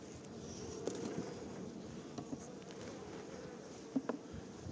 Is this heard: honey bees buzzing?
yes